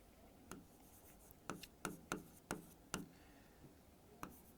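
Chalk or marker strokes on a board during a class 10 maths lesson on triangles make a series of sharp, scratchy taps and short scrapes, fairly faint in a quiet room.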